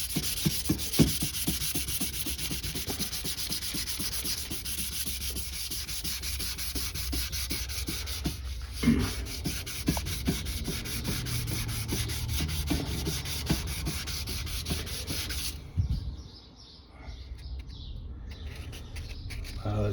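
Sandpaper scrubs primer on the grill of a 2004 Jeep Grand Cherokee in a steady, close, rasping back-and-forth rhythm that runs on and then stops near the end.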